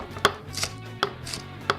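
Vegetables for jackfruit tacos being chopped on a board, three crisp, evenly spaced knife strikes close up, with soft rustling between them and no voices.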